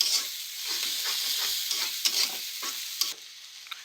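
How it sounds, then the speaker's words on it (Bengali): Chopped onion stirred and frying in a pan for a drumstick curry, a steady close sizzle broken by irregular scraping stirs, with no voices. "পেঁয়াজ কুচিটা দিয়ে আমি নেড়ে চেড়ে ভেজে নেব অল্প নরম হওয়া পর্যন্ত।"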